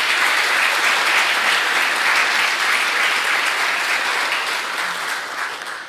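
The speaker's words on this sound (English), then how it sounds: "Let's give them all a round of applause, please." Sustained audience applause at a Martin Luther King Jr. scholarship awards banquet, a broad, even roar of many clapping hands that holds steady and then slowly tapers near the end.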